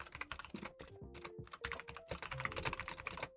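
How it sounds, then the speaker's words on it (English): Quick, close clatter of keystrokes on a computer keyboard, irregular bursts of taps with short pauses between, soft and crisp with no voice over it. "Can you guys hear my typing on stream?"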